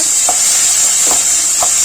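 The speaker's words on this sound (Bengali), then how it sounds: "একটু ভাজা ভাজা করে নেবো" Taro leaves fry in a pan, giving a loud, constant close hiss of oil with three soft stirring scrapes spaced through it.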